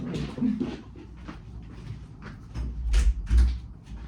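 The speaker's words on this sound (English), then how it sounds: "Let me close the door." A door pushed shut indoors during a home recording, with a soft shuffle followed by a couple of low dull thumps as it closes, fairly close and moderately loud, no talking over it.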